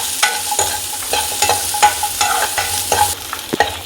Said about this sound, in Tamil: சின்ன வெங்காயத்தையும் போட்டுக்கோங்க. அதையும் நல்லா மிக்ஸ் பண்ணி விட்டுருங்க.